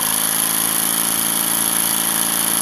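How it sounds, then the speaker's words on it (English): A steam engine fitted with silent bearings runs at full range, giving a steady, loud, unbroken mechanical hum and whir with a faint rhythmic pulse and no pauses, close by and alone. "This engine has silent bearings, and that's why you don't hear much noise."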